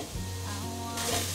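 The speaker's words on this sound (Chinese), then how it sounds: "把香菇和红喜菇炒至表面微焦" Shiitake and red mushrooms stir-fry in hot oil in a pan, giving a steady, close sizzle that grows brighter and hisses louder toward the end, with no talk over it.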